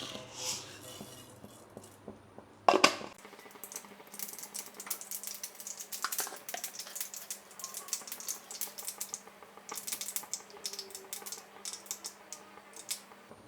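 Mustard seeds popping in hot coconut oil, a sharp burst of crackling that turns into a dense, continuous patter of quick pops and ticks, close and fairly loud, with no voices.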